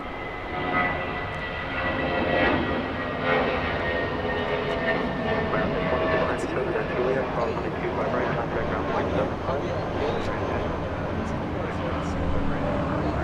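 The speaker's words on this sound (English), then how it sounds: "that Queen of the Skies 747 in the face mask livery" A Boeing 747 jet in face mask livery roars steadily at Los Angeles International Airport, a broad continuous engine rumble holding at even loudness throughout, with people talking over it.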